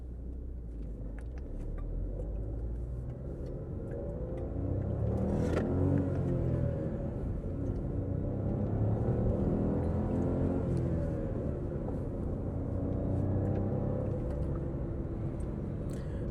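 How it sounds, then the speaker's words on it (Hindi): A 2026 Nissan Tekton 1.0 turbo car pulls away in first gear, its engine a steady close rumble that swells in revs partway through and holds a strained, droning tone. "Now let's put it in first gear. और अब आप इसकी पावर देखिएगा, कैसे पावर आ रही है"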